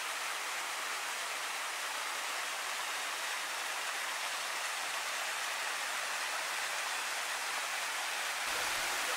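Steady rushing water of a waterfall on the Ka'au Crater hike, a dense, unbroken roar that holds constant throughout with no voices.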